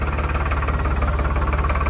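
A tractor engine runs at a steady idle on a farm in Canada, a low, rhythmic diesel throb with a slight knock, close and continuous with no talk.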